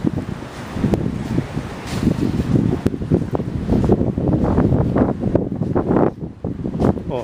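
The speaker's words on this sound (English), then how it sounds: "Really windy." Strong wind buffets the microphone on the deck of the NCL Jade cruise ship, a loud continuous rumbling gust with shifting bursts and no speech.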